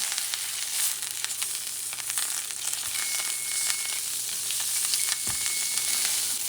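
Top round steak searing in a hot pan for a blue rare crust, a steady loud sizzle and crackle with close spits and pops throughout, no voices.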